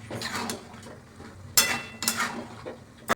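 Pasta with vegetables and egg being stirred in a pan, with soft scraping and a few sharper clinks of a utensil against the metal, close by and with no talk.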